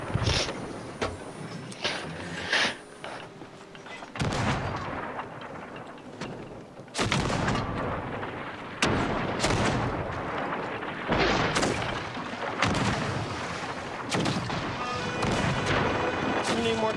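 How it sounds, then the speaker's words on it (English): Heavy cannon blasts from ships in the pirate game Sea of Thieves boom repeatedly at irregular intervals, loud and close, with a player's voice talking between shots. "Cannonballs."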